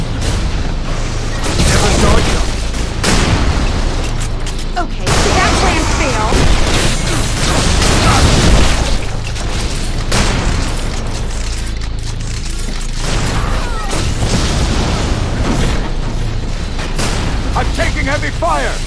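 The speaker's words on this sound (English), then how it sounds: "heavy fire!" Heavy gunfire and booming explosions in an Unreal Tournament 3 team deathmatch on the Crucible map, dense and continuous for the whole stretch, with a steady low hum beneath and a voice talking over it.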